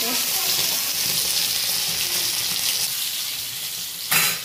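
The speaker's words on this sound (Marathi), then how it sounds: "हा आणि इथं चिलापी फ्राय होते" Tilapia fish fries in hot oil with a loud, steady, close sizzle that holds throughout, then swells briefly near the end.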